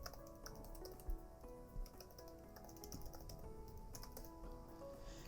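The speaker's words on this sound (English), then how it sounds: "So I'm going to go ahead and type in the server name." Someone types on a computer keyboard, a quiet, close run of irregular key clicks with a couple of heavier taps and no voice.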